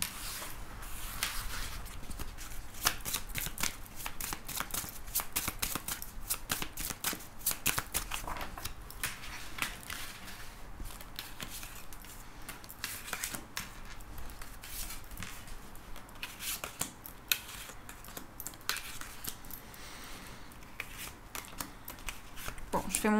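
Tarot or oracle cards are shuffled for a nine-card reading, a close, continuous riffle of rapid papery flicks and slaps that runs without a break from start to finish.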